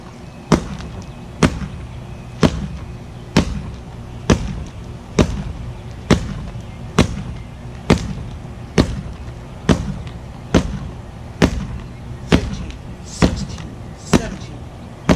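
Left-handed sword chops with the sword leg forward strike a wooden pell about twenty times in a steady, even rhythm, each a sharp, close wooden thwack with a short ring-off and a quiet pause between.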